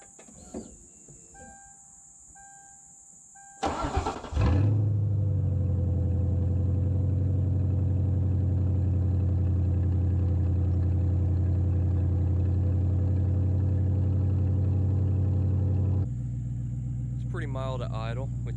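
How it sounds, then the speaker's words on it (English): A Ford Crown Victoria with an H-pipe exhaust starts from cold after a few seconds of quiet, roaring briefly before settling into a steady, deep, loud idle; near the end the idle drops slightly and a voice talks over it. "So I'll do a cold start for you guys."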